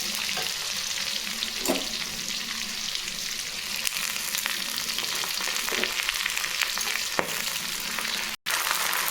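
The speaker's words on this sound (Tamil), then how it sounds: "இப்போ நம்ம இந்த வல்லாரக்கீரையை ஆட் பண்ணிப்போம்." Pennywort (vallarai keerai) leaves frying with golden onions in a pan give a continuous close hiss and sizzle, with occasional soft scrapes and one brief clatter near the end, no talking.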